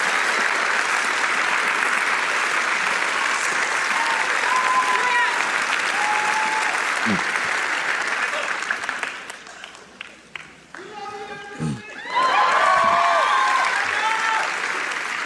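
Loud, sustained applause from a church congregation during a Sunday sermon, steady for about eight seconds, then dipping into scattered claps and voices before swelling again into full clapping.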